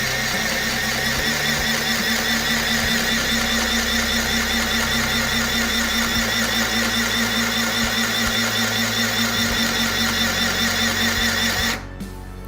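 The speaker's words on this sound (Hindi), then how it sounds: "तो मैं पहले बटन की मदद से चला के देखता हूँ इसको किस तरीके से सिलाई होती है।" Electric sewing machine stitching cloth, a loud continuous rapid mechanical whirring and clatter running steadily for about twelve seconds before stopping abruptly.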